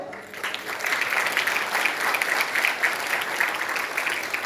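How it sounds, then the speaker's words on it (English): Dense audience applause at an FHRA India event swells in quickly and holds steady, a full room of clapping hands close and loud throughout. "Can we have a big round of applause?"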